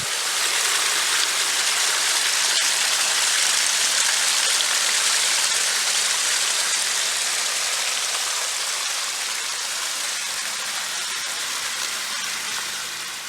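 Continuous rush of flowing, splashing water from a backyard pondless waterfall on a hillside, loud and steady, with no voices.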